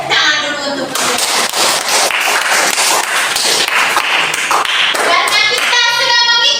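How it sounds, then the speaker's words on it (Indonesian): Students in a classroom get a round of hand applause after presenting on the parts of the Eucharist, a dense patter of claps running steadily throughout with a voice mixed in. "tepuk tangan dulu untuk mereka"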